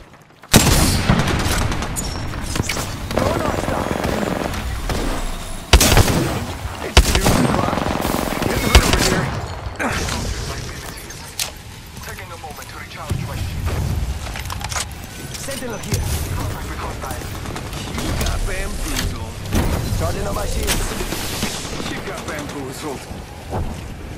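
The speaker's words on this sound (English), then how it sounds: "Shots fired and they're hitting me." Battle royale video game gunfire, with loud repeated shots and automatic bursts clustered early and then scattered across a long stretch. Game voice callouts and other effects sound in between.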